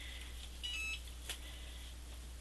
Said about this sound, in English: so the timer beeped